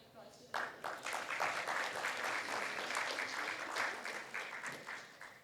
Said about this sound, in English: I would ask everybody to give a big round of applause to them.